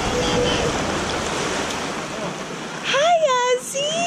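Surf rolls steadily on a beach at the Aulani resort in Hawaii, with the broad wash of the waves breaking close by. Children's voices and high excited talk come in over the surf toward the end.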